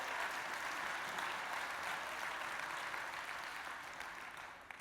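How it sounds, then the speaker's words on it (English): Steady crowd applause at a conference keynote, many hands clapping at once in a continuous wash that gradually fades slightly toward the end. "round of applause for my wife for planning her own Mother's Day"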